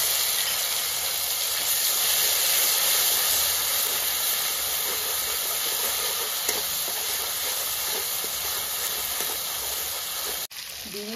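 Cumin and green chili paste frying in hot oil for a Bengali fish curry with cauliflower, giving a loud, steady, even hiss and sizzle that carries on unbroken for several seconds.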